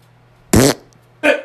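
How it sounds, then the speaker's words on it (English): Two loud, close farts come in quick succession: a longer, buzzy, sputtering one and then a shorter second burst, with quiet between them and no speech. "She just squeezed the fart."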